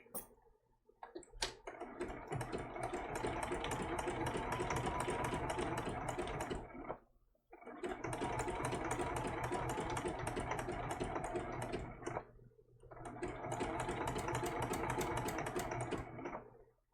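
Sewing machine running in three long bursts of steady rapid stitching on a turtle applique, each burst separated by a short pause, close and moderately quiet.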